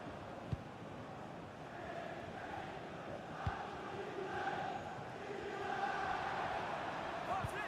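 Stadium crowd noise from the FC 26 football video game after a goal, a steady broad roar that swells slightly toward the end, with a couple of brief thumps.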